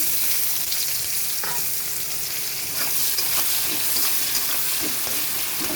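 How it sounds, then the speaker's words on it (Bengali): Chopped onion fries in hot oil with bay leaf and five-spice seasoning, a loud, continuous dense sizzle with a few faint stirring knocks, close up and steady throughout, no voices. "কেটে রাখা পেঁয়াজটা ফোড়নে দেবো"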